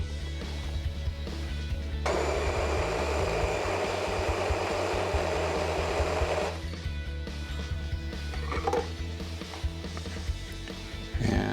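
A coffee grinder runs on roasted beans at a coarse setting of 40, giving a loud, steady whir for several seconds that then stops, followed by lighter mechanical clicks and handling sounds nearby.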